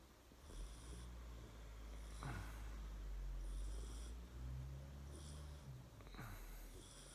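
A dog snores in the background on a quiet night, slow rhythmic snores roughly every two seconds over a steady low hum, soft and unhurried.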